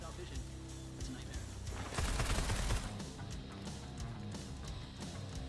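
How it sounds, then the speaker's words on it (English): Chixia firing a rapid stream of bullets in the video game Wuthering Waves, quick repeated shots that swell into a louder burst midway, heard faintly with game sounds in the background. "If you hold triangle, you can shoot multiple bullets."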